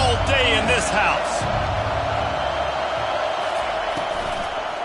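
Stadium crowd roaring at an LSU college football game, a dense sustained wash of cheering under a commentator's voice.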